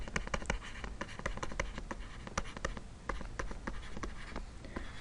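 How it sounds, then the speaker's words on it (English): A pen scratches across a writing surface, with rapid, irregular strokes and taps coming close and clear over five seconds of steady writing, no talking. "If my pen will write"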